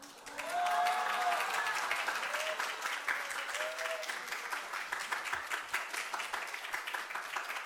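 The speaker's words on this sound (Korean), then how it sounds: "큰 박수로 환영해 주시기 바랍니다" Sustained applause from a church congregation welcoming a speaker, rising quickly and then continuing at a steady level, with a few brief tones sounding over the clapping.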